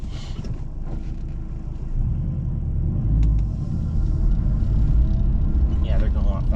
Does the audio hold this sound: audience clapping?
no